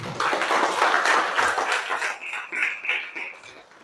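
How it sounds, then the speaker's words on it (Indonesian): A classroom of students claps together, a dense burst of hand claps that runs for several seconds before thinning out, with faint high voices underneath. "Kalian luar biasa, tepuk tangan semuanya."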